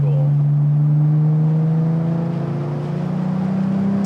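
A Nissan Z32 VG30 V6 engine drones loudly and steadily up close, its pitch climbing slowly as it revs.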